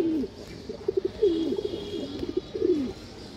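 A female pigeon coos up close, several throaty rolling calls in a row over a steady background hum.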